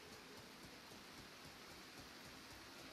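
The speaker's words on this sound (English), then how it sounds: "it's still raining, girl" Steady rain hissing down in the survival game DayZ, a dense, even wash of drops with no voices over it.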